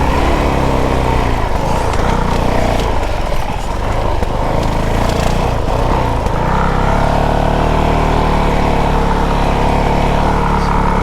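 A 2022 Honda CRF450RL dirt bike ridden hard on a motocross track, its engine loud and continuous with throttle blips, rev swells and wind rush, steadying into a sustained drone.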